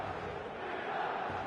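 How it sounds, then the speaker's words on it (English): Stadium crowd in eFootball 2026 holds a dense, steady expectant buzz before kickoff, a broad continuous roar of many voices with no distinct words. "There's a real expectant buzz in the stadium"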